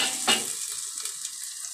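Ingredients sautéing in oil in a pan, a sharp scrape of a utensil near the start and then a soft, continuous sizzle fading slightly over a brief moment.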